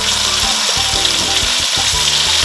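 Loud, steady sizzling of fish frying in hot oil, a dense crackling hiss with no talking.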